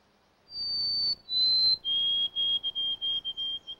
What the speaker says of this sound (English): The white-throated sparrow's pure whistle resonates from edges and openings in mixed and pine forests